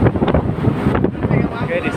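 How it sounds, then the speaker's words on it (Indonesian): On the upper deck of a passenger ship, strong wind roars against the microphone in a constant rough rush while a voice talks beneath it. "dan di sini angin kuat sekali"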